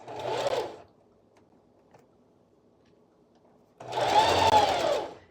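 A sewing machine runs two short bursts of back stitching while sewing a sitter dress, a brief whir, then a pause with faint ticking, then a longer, louder close run.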